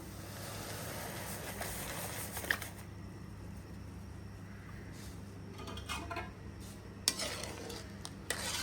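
Sugar being stirred into milk in a pot for rava kesari, a steady scraping stir with a low background hum and a few brief clinks of spoon on metal.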